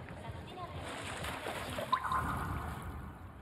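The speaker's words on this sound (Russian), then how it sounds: "Кто пузырьки пустил?" Bubbles rising through water in the video game GhostWire: Tokyo, a steady watery sloshing and gurgling with a brief splash near the middle, heard under a voice.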